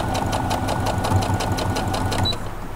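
A sewing machine stitches down the petals of a Dresden plate quilt candle mat, a close, steady rapid rhythmic chatter that slows slightly near the end.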